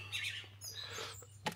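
Birds singing outdoors on an early summer morning, a few faint chirps and short tweets scattered at a distance over a low steady hum.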